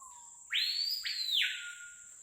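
Capitão do mato bird singing in a forest, one clear sustained whistled phrase that rises, then holds and falls, fairly faint against a quiet background.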